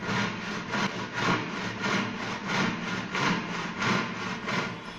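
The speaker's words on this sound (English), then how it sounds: "portable mechanical saws," A saw cuts through wood in steady, rhythmic back-and-forth strokes, about two per second, close and moderately loud with no voices present.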